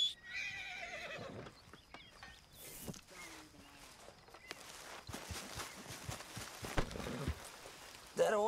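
A horse in the video game Red Dead Redemption 2 whinnies several times, with hooves clip-clopping on the ground between the calls, all under background game ambience and some brief voice sounds.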